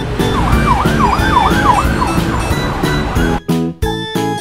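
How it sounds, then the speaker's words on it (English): A police car siren wails loud and close in rising and falling sweeps, then gives way to sharp, choppy horn-like blasts with brief gaps near the end. "I see a police car."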